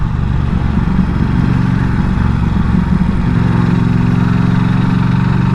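A 2023 Norton Commando 961 SP motorcycle chugs along at around 2,500 to 3,000 RPM. Its loud, close engine rumble holds steady throughout, with no speech.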